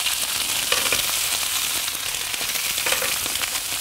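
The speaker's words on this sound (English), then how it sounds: "so just press the fish down into the pan" Lough Neagh pollan fish sizzling in a hot pan, a loud, steady, close crackle of frying with small pops and occasional stirring clicks, no talking.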